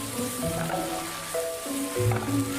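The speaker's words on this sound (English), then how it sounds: "Stir-fry the cabbage leaves until softened." Chinese cabbage leaves stir-fry in a hot wok with a soft, steady sizzle broken by moist squishing and stirring sounds, fairly quiet and close, with background music tones and no talking.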